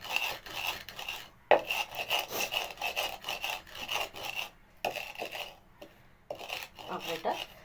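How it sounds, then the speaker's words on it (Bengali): Cumin seeds being ground by hand, a rough scraping and rasping in repeated strokes with short pauses between them, close and fairly loud. "জিরেটাকে গুঁড়িয়ে নেব"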